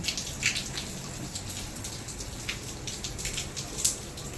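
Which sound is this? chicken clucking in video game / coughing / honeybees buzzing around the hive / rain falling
rain falling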